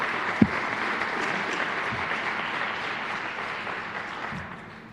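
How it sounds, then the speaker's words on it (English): Audience applause fills a community forum on the Brockton High School construction project, a steady wash of many hands clapping at moderate volume across the room, with one sharper clap near the start before the sound slowly thins out. "I think that deserves a round of applause."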